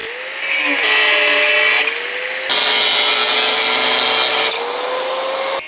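Power tool cutting through a steel axle bolt for an electric farm cultivator, a loud high-pitched whine with a steady motor tone that pitches down under load, in bursts of grinding separated by brief lighter passes.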